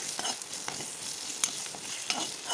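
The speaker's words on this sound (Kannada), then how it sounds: "ವೀಳ್ಯದೆಲೆಯನ್ನು ಕಟ್ ಮಾಡಿಕೊಂಡಿದ್ನಲ್ಲ ಅದನ್ನು ಆ್ಯಡ್ ಇದ್ದೀನಿ ಇದು ಚೆನ್ನಾಗಿ ಹುರಿಬೇಕು" Chopped betel leaves frying in a pan for rasam while being stirred, giving a steady close sizzle with scattered light scrapes and clicks of the spoon, and no talking.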